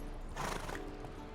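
Roach, a horse in the video game Witcher 3, gallops with quick hoof clip-clops and a short whinny, all in one brief burst.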